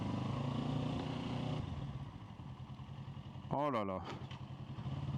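Motorcycle engine droning steadily at close range under riding wind noise, with a voice briefly exclaiming partway through; the pitch shifts rather than clearly rising into a strong acceleration.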